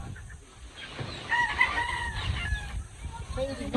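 Rooster crowing at a poultry farm, a moderately distant cock-a-doodle-doo with other chickens clucking around it over a faint background hum.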